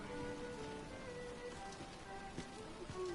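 Steady rain hiss fills the scene in the video game Dragon's Dogma 2, with scattered droplet ticks and a few tonal game-like sounds layered on top.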